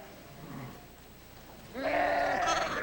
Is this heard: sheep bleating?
yes